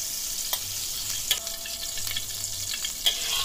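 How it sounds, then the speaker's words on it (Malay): Shrimp fry in a pan, half-cooked for a simple fried kway teow, giving a steady close sizzle with a few brief clinks and stirring sounds and no talk. "Okey, kita tumis ataupun goreng udang tu hingga separuh masak saja."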